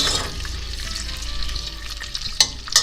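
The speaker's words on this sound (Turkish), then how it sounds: "Şimdi yağlarla birlikte kavurmaya başlıyoruz." Chicken gizzards sizzle in a quarter glass of vegetable oil with half a spoon of butter, a loud steady crackle broken by a couple of sharp stirring scrapes near the end, no talk.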